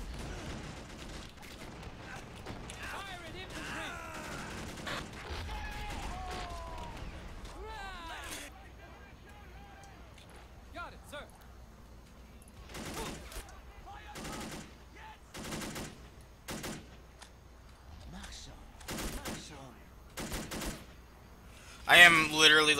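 20 mm cannon fire in the video game Men of War Assault Squad 2: quiet early stretches with faint voices, then repeated sharp bursts of automatic fire growing louder and denser toward the end.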